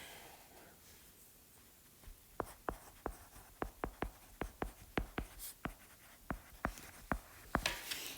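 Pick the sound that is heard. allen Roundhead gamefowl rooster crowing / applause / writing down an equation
writing down an equation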